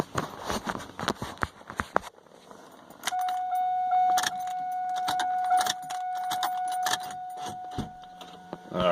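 Car door locks on a Camaro/Firebird F-body clunking as a key fob cycles them, a series of sharp mechanical clicks and thunks followed by a steady electronic chime tone in a quiet setting.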